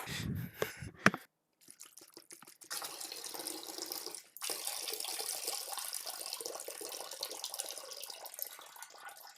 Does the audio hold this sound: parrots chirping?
no